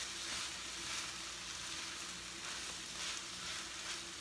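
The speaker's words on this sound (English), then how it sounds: "So I'm gonna go ahead and stir the rice before I add the rest of the broth." Seasoned rice for Puerto Rican arroz con gandules being stirred in a hot pot, giving a soft, steady sizzle with faint scraping, quiet and continuous.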